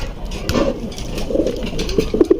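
A male high-flying pigeon, whose mate is sitting on eggs, coos nearby in a few soft throaty bursts, the last two calls closer together and a little louder.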